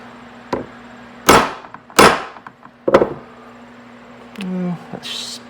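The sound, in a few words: hammering a chisel into a metal round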